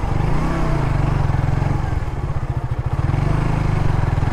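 Motorcycle climbing a dirt hill road in the hills of Cox's Bazar, its engine loud and close with a steady throbbing chug that labors and shifts pitch as it pulls uphill.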